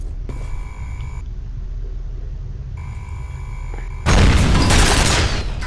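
Grenade explosion in F.E.A.R., a sudden loud, broad blast near the end that rolls into a rumbling roar after a stretch of quieter game ambience with mechanical hums.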